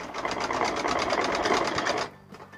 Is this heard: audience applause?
no